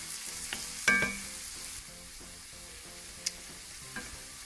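Ground turkey fries in a pan, a quiet continuous sizzle broken by a few scraping stirs of a utensil, with one sharper clatter near the start.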